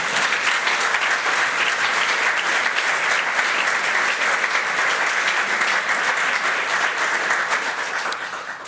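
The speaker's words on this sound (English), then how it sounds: "Give them another round of applause." Sustained applause from a synagogue congregation during a sermon, a dense, steady wash of many hands clapping together that holds evenly for several seconds before easing slightly at the end.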